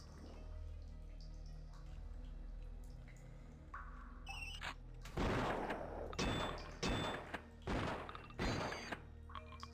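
Gunfire in the retro shooter Blood, aimed at a spider: after a quiet stretch of ambient game sound, five or six loud, sharp shots ring out at roughly one-second intervals, each with a crashing tail.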